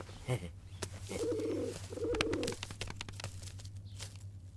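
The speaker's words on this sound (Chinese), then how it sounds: "我一眼就认出它是只信鸽" A carrier pigeon coos in two drawn-out, throaty phrases close by, with a brief soft call just before them, against a steady low hum and no talking.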